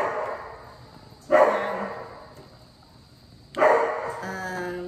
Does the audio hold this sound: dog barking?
yes